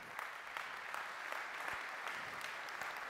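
A conference audience in Germany gives a round of applause for a partner company, steady, even clapping from a large room heard at moderate distance throughout.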